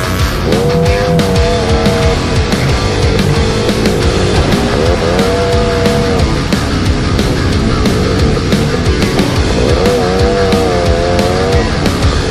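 Motocross bikes and ATVs ride the Irish Valley motocross and ATV track, their engines a loud, continuous roar with repeated rising and falling revs throughout. No voices are heard.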